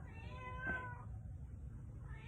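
A single cat gives one clear, drawn-out meow near the start, fairly quiet, over a low steady background hum with no talk.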